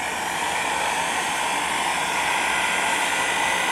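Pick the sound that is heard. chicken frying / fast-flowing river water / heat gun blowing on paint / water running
heat gun blowing on paint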